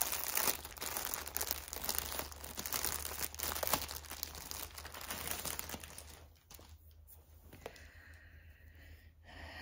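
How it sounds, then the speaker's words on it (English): Plastic packaging crinkles and crunches continuously up close while a basket of cross stitch supplies is unpacked, with bursts of rustling through most of the stretch and quieter handling toward the end. "Sorry about the crinkling."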